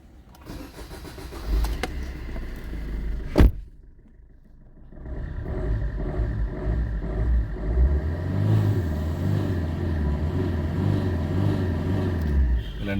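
A Maruti Vitara Brezza diesel car cranks with a sharp bang-like catch near the start, then settles into a steady, loud diesel idle rumble that runs on alone.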